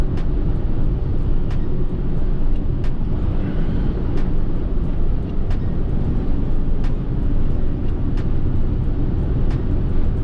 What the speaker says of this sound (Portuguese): você não precisa quase que nem acelerar que o carro vai normal na velocidade